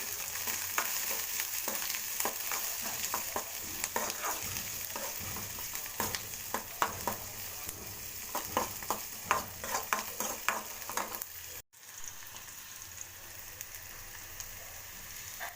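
Onions and green chili fry in oil in a pan for a bean palya, with a steady sizzle and repeated scraping stirs through most of the stretch, close and fairly loud, with no talk.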